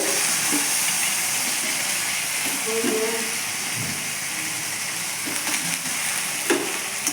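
Drumstick vegetables go into a pan where eggplant and onion are already frying, and a steady hiss and sizzle runs throughout with a few faint clinks from stirring. The sizzle is close and even.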